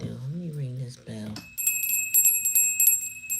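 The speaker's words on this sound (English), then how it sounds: "Let me ring this bell." A small hand bell rings several times in quick succession, bright and metallic with lingering high overtones, right after a brief spoken phrase.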